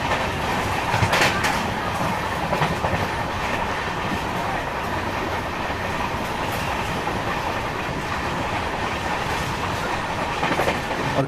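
Train on the Konkan Railway between Ratnagiri and Kochuveli, heard from on board: a steady, loud rumble with rhythmic clickety-clack of the wheels over the rail joints, continuous throughout with no talking.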